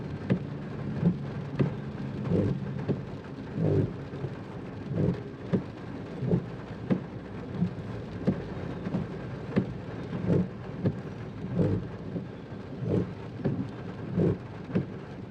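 Heavy rain drums steadily on a car in Jakarta during a thunderstorm, with dull rumbles of thunder and rhythmic thumps repeating through the downpour, heard from inside the vehicle.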